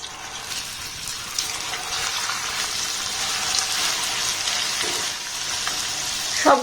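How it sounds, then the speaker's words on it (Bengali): Pitha cakes fry in shallow, medium-hot oil in a large frying pan, giving a steady, close, continuous sizzle and crackle with no talking. "যেগুলো পিঠের শেপ দিয়েছি সেগুলো তেলের মধ্যে দিয়ে দেবো"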